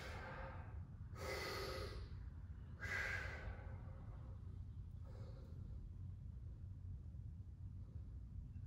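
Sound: deep breathing during a stretch

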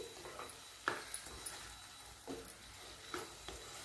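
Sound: cut tomatoes being added and mixed in pan

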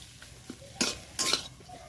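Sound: stirring and sautéing banana flower filling in a pan

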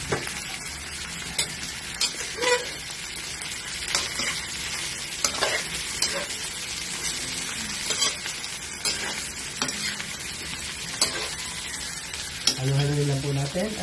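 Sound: shrimp frying in oil with annatto, being stirred

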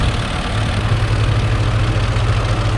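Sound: New Holland 5630 4x4 tractor engine idling

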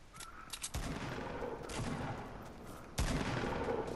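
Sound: gunfire in the video game Fortnite

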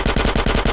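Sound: gunfire in the video game GTA San Andreas

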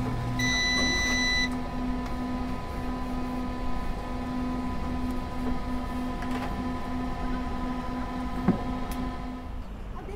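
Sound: ramyeon cooker beeping

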